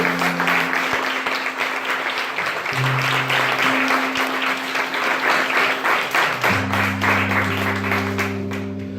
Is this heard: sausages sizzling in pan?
no